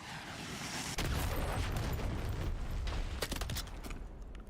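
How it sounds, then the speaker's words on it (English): Hand cannon in the Black Ops 6 video game firing: after a second of quieter game ambience, a loud sustained barrage of booming blasts and rumbling impacts fills the mix, with sharp cracking shots near the end. "Hand cannon going off."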